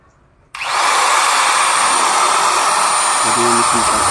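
A repaired grinding machine motor switches on abruptly from near silence and then runs loud and steady with a continuous high whine, and a brief voice comes in near the end.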